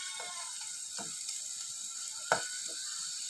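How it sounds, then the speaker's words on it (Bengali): Taro leaf greens fry gently in a pan under a soft constant sizzle, with a few distinct scraping stirs of a spatula punctuating the quiet cooking. "আমরা এখন শাকগুলো ভালোভাবে নাড়াচাড়া করে নেব।"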